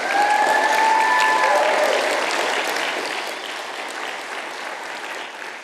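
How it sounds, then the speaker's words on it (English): Audience applause after a keynote fireside chat at a games industry conference, a dense sustained clapping that fades gradually over several seconds, with a faint whistle near the start. "Let's give them another round of applause."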